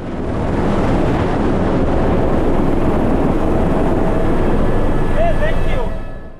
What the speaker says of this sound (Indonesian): Seberusaha mungkin mereka ngedeketin helikopternya ke mobil itu